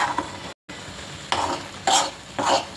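Spoon stirring a jaggery cough remedy in a pan over the flame, a few scraping strokes with faint sizzle, close and alone with no talk.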